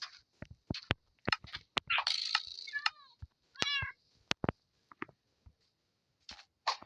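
A cat in the Minecraft video game meows a couple of times after being hit, short wavering cries among sharp game clicks and taps in otherwise quiet surroundings.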